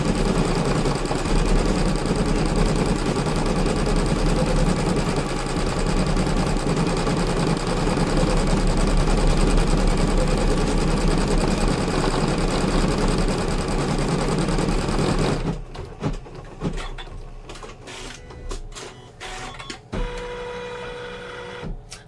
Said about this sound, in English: I'm stitching at 600 stitches a minute on this.